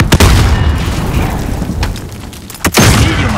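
A grenade blast in Call of Duty Warzone, loud and close, with a sharp opening boom and a second heavy burst near the end, each trailing into a dense rumbling tail.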